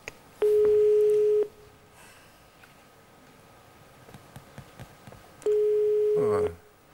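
Two long steady telephone line tones on a handset after a number is dialed, each about a second, separated by quiet line hiss with faint clicks.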